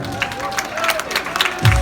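An audience claps to welcome Ryskulov Baizak, a scattered patter of applause running under a speaking voice and swelling toward the end.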